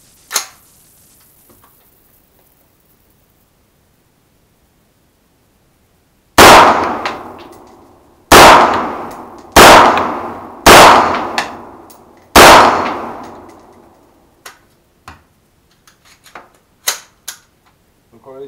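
.223 rifle rounds striking a steel gong at 25 meters, five loud ringing clangs spaced a second or two apart, each decaying slowly, followed by a few fainter scattered clicks and knocks.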